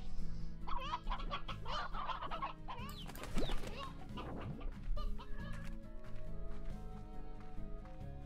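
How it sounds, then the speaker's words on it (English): Chickens in the video game Slime Rancher cluck repeatedly in a busy flock, with a flurry of flapping wings midway and a brief crowing note, moderately close under a steady game background, with no talk. "Grab some chickens to feed to him."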